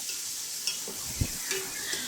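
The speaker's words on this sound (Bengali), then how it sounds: "সেই একই প্যানে আমি তেল দিয়ে বেশি করে পেঁয়াজ দিয়ে দিচ্ছি।" Onions fry in oil in a pan, a steady close sizzle with a few soft stirring knocks.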